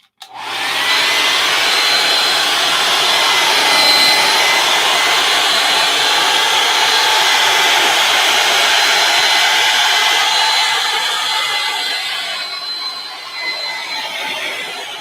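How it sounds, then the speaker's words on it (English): A hair dryer drying paint on a mural blows steadily and loudly for the whole stretch, a continuous whooshing roar with a faint whine, easing slightly near the end. "Okay, blow dryer. Let's make sure that's nice and dry."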